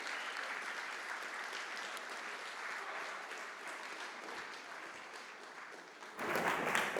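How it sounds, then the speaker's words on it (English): Audience applause welcoming a panel onto a stage fills the room in a steady, moderately distant wash of clapping that swells louder near the end. "Can we give them all a big round of applause"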